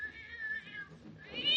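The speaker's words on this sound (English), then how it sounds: "That cat sounds as if it's under the bed." A cat meows in an old-time radio drama, a single drawn-out, wavering cry that swells at the end, heard alone with no voices over it.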